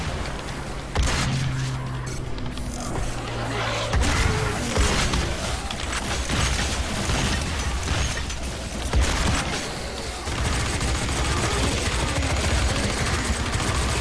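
Assault rifle in the Doom mod D4T firing in sustained bursts for about fourteen seconds, dense and loud, with booms and mechanical clatter mixed in and brief pauses between volleys.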